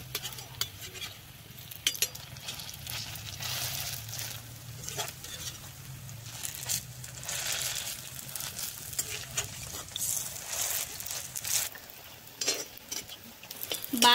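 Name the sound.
malabar spinach leaf fritters frying and being turned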